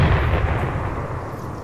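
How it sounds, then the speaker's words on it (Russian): A mortar firing in the military game ArmA 3, a single heavy, close, booming blast whose low rumble rolls on and slowly dies away over a second and a half. "Ну это наш миномет, похоже."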